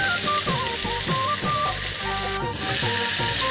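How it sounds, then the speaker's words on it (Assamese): Chicken frying in a pan, stirred and sizzling with steady hiss throughout, salted during cooking, with music playing over the sizzle. "এনেকৈ লৰাই আছোঁ।"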